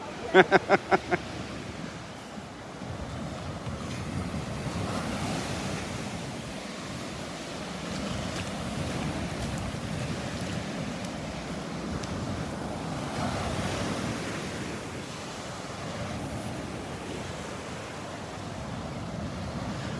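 Surf rolls in along the beach at Delnor-Wiggins with steady wind buffeting the microphone, a constant wash of waves after a few sharp clicks at the start.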